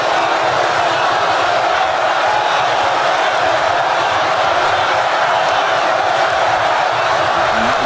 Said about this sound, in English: They're cheering lock her up.